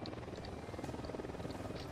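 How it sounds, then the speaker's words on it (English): A helicopter flies overhead in the video game Ghost Recon Wildlands, giving a steady, fairly loud rotor drone that holds through the whole moment with no talk over it. "Helicopter, get down."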